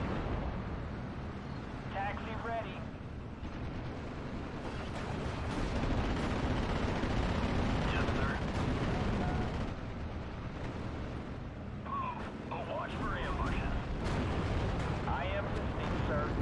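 In the Steel Division: Normandy 44 WWII strategy game, an anti-tank gun fires on the Odon map as muffled, repeated booms land over a continuous rumbling battle din.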